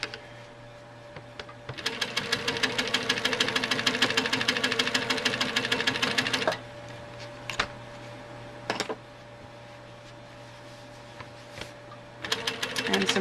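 A sewing machine doing free motion quilting stitches in rapid, close bursts of mechanical clatter, pausing and restarting over a steady motor hum.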